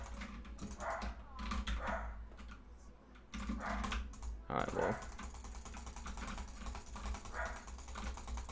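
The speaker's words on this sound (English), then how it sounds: "Why is my dog barking, bro," A dog barks and whimpers intermittently in a room, its yelps rising over rapid clicking of a computer keyboard, with a louder burst of barking around the middle and a speaking voice mixed in faintly.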